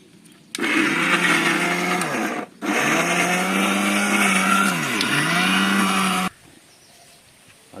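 An electric blender grinding spice powder together with mint, a loud steady whir in two long bursts separated by a brief stop, close by, then cutting off to quiet.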